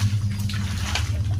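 A bucket of water is flung across a courtyard floor, giving a loud, close, rushing splash over a steady low hum, with no talking.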